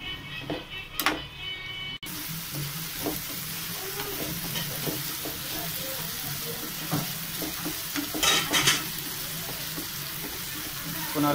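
Chopped tomatoes sautéing in a pan for prawn thokku, a continuous close sizzle broken by spatula stirs and scrapes, with a brief quieter moment near the start and a few louder clatters later.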